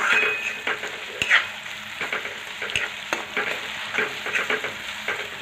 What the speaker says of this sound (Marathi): आपलं टोमॅटो पण आहे ना मस्त तेलामध्ये परतून झालेलं आहे